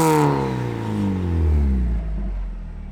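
A Mazda Miata fitted with a new aftermarket exhaust revs loudly and close, its note rising sharply at first, then falling and climbing again in a strong, raspy sweep.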